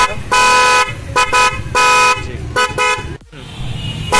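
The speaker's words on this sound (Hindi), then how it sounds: "ये बॉस का हॉर्न फिट हो गया है, एक ये नीचे है यहाँ पर, एक ये ऊपर" A Bosch horn pair fitted to a Wagon R car honks loudly and close up, several short and long blasts in an uneven rhythm, with a brief quiet gap near the end before one last tone.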